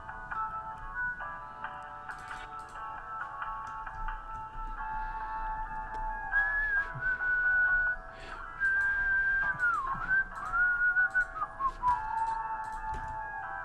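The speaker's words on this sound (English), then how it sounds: "Sorry for whistling" A person whistles a wavering, sliding melody for several seconds, with long sustained tones and pitch bends, fairly close and clear over a faint, steady background hum.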